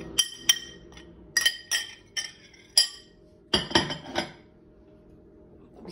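Green and black olives tumble into a container for a Moroccan-style marinade, giving a run of sharp glassy clinks and clatters in short bursts, fairly close and otherwise quiet.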